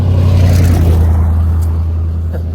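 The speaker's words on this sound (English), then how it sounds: "We got a truck going by here" A truck rumbles past nearby on a road, a loud, deep engine drone that holds strong and then slowly eases as it moves away.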